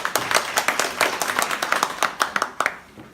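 A small audience at a Seoul urban-agriculture forum claps to welcome a Seoul National University professor, a close sparse burst of distinct individual claps fading out near the end.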